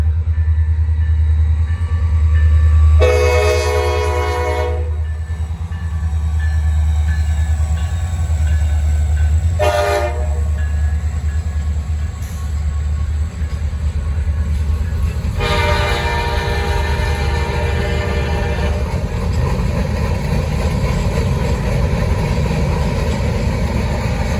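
A Norfolk Southern freight train, P42, rumbles past close by with a steady low roar, its horn blasting in three separate bursts: a long one, a short one, then another long one.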